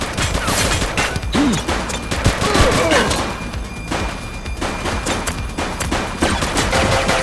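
Police shootout in the video game The Precinct: rapid bursts of gunfire and repeated loud shots crack through the scene, dense and close, with brief lulls before more shooting resumes, over background game noise.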